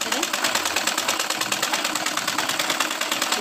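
A sewing machine stitches the side body fitting of a kurti, running in a steady, fast, even whir that fills the whole stretch without pause.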